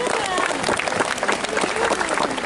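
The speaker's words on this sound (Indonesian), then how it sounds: "Kita tepuk tangan untuk" Audience applause at an evangelistic rally (KKR) in Mamasa, a steady dense wash of many hands clapping close and loud throughout, with scattered voices mixed in.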